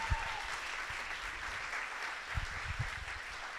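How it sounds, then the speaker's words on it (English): A round of applause from the audience at a mental health storytelling stage show, steady and fairly soft, heard from a distance with a few sharper claps standing out near the end. "One more round of applause."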